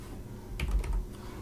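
A few quick keystrokes on a computer keyboard while entering a DAX formula in Power BI, a brief close clatter over a low steady room hum.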